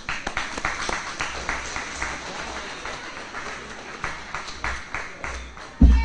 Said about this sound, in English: Everyone give a round of applause to Katan Alexander.